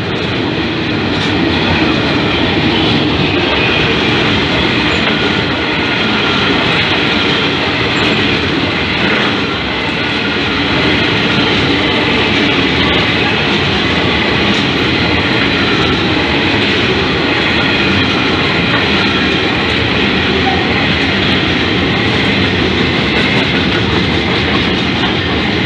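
NSW Trains locomotives 8143 and 8144 pass a station platform at Picton, a loud sustained diesel engine roar and rolling rumble filling the whole span without letup, close by, with no talking.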